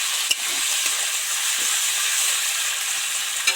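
Ginger, radhuni, cumin, coriander and pepper powder frying in hot oil give an even, loud steamy sizzle with occasional soft stirring knocks, no speech.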